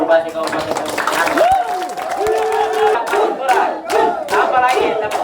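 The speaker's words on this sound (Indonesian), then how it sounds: "kita tepuk tangan untuk Bupati Kabupaten Banyuwangi" A large audience cheers, shouts and claps loudly and continuously for a regency head at an official gathering in Papua. Whoops and a few voices rise over dense crowd noise throughout.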